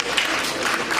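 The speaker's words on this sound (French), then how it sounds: "Applaudissez, mesdames et messieurs" Wedding guests applaud steadily, a dense, close wash of clapping that fills the whole moment with no voices over it.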